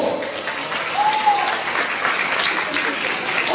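Children at a church camp revival service clap together in steady, dense applause that fills the space evenly for several seconds at moderate loudness, with no voices standing out.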